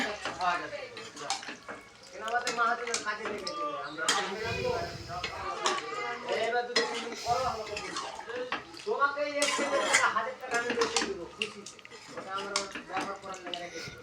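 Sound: stirring chicken curry in a pot after adding water

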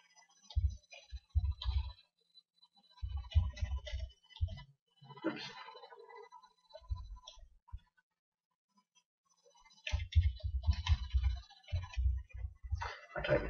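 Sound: typing on a computer keyboard

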